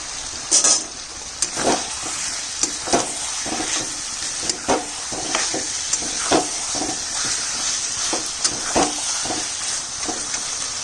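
Mutton curry with fried potatoes, tomato and yogurt sautés in a pan, a continuous bright sizzling hiss broken by repeated spatula scrapes and clinks against the pot, close and fairly loud, with no voices.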